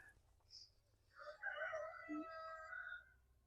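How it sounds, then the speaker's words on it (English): A cockerel crows in the background of a garden, a faint, drawn-out call rising and falling over a low steady outdoor hum, fairly distant and quiet. "I got that cockerel in the background"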